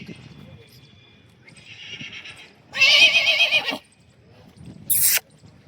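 A horse neighs loudly at a horse market in Yeola, a strong whinny in the middle followed by a short shrill call, with other horse sounds and people talking around it.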